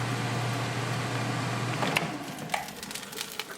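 An air fryer is opened partway through cooking frozen ground beef burgers. A steady fan hum cuts off, followed by a few sharp plastic clicks and knocks as the basket is pulled out.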